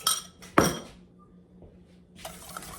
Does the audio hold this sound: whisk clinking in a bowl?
yes